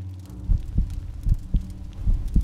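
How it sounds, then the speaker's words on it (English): In a Fortnite short film, a slow rhythmic heartbeat sound effect thumps about five times, low and deep, evenly spaced over a faint hum. "Is that a heartbeat?"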